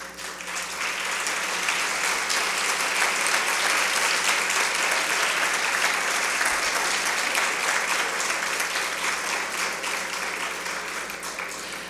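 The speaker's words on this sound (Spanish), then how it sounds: "les damos un caluroso aplauso" Standing crowd gives warm, sustained applause to veterans of the 1948 Revolution at a 2016 visit by Henrietta Boggs, a dense, loud wash of clapping that swells in quickly and holds evenly for about ten seconds.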